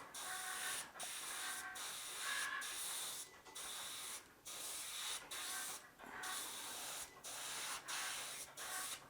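An airbrush sprays paint on a model ship build, a close, steady hiss in about ten separate bursts with short pauses between them.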